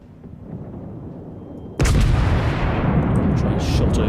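Naval guns on a World War II-era warship such as the battleship Texas, in a naval combat video game, fire a sudden loud heavy salvo after a quieter stretch, and the booming roar and rumble carry on to the end with speech faint beneath.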